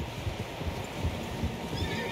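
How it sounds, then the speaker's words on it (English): Several horses in Red Dead Redemption 2, with soft hoof clip-clops and low snorting under a steady outdoor ambience. "Tracks. Horses, quite a few of them."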